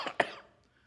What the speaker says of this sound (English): First thing I do is cough.